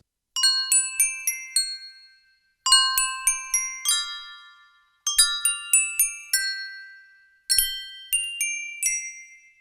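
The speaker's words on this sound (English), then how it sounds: "The second set of bells from the Festive Bells set are toy bells." Small bright toy bells from a Festive Bells Kontakt instrument chime in four quick cascading runs, each a cluster of tinkling strikes that ring out and fade before the next begins.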